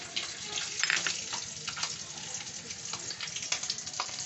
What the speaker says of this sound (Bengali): মাছ ভাজা তেলেই আমি এই ফোড়নটা দিয়ে